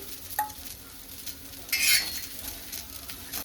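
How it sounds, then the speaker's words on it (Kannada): Onions fry in a hot pan for egg curry, with a short burst of sizzling in the middle and soft stirring clinks around it. The frying is close and moderate in volume, with no talking. "ಇವಾಗ ಅದೇ ಹಂಚೊಳಗಡೆನೆ ನಾನು ಈರುಳ್ಳಿನ ಹಾಕೊಳ್ತಾ ಇದ್ದೀನಿ."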